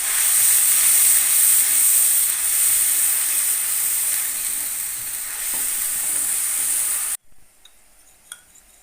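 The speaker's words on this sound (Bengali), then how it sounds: "এইগুলোকে খুন্তি দিয়ে আগে একটুখানি হালকা করে ভেজে নিতে হবে" Tomato and ginger paste sizzles steadily in a pan over low flame, stirred with a spatula, a loud continuous hiss with faint scraping that cuts off abruptly near the end, leaving a few quiet clinks.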